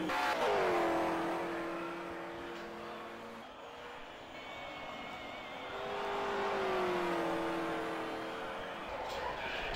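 Holden, Mustang and Rover V8 touring cars race at Pukekohe in round 4 of the 1985 New Zealand touring car championship. Moderately distant engines rev and rise in pitch, fading and swelling as the cars pass, while a voice talks over them.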